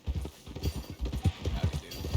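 Horse hooves clip-clopping at a steady walking rhythm in Red Dead Redemption 2, close and fairly loud, with someone talking over the hoofbeats.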